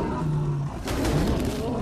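A tiger in a video game lets out one short, throaty roar, fairly close and loud, over a steady low background hum.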